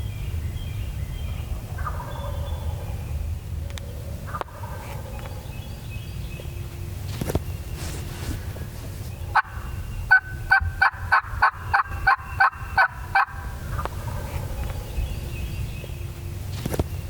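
A wild turkey on Missouri public land woods gobbles in a quick rattling burst at moderate distance. A few softer calls and rustling footsteps come before it in the quiet morning woods.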